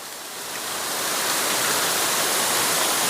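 A loud, steady roar of a waterfall in Devgad swells over the first second and then holds as a constant, dense wash of white noise, with no voices.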